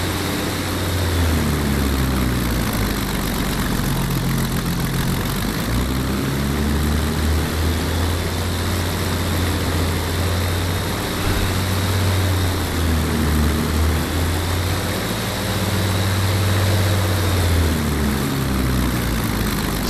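A Messerschmitt ME109 sits with its propeller engine under throttle as the aircraft starts moving to taxi, giving a loud, steady, heavy drone with a deep low rumble and slowly shifting tone throughout, close and without talk.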